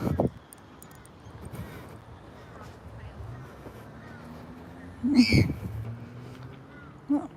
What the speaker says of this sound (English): the purple swamp hen's making that noise